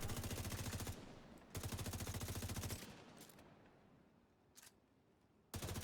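Bursts of automatic gunfire in The Division 2, with two long, loud rapid-fire volleys and a third near the end, separated by quieter battle noise and a few distant shots.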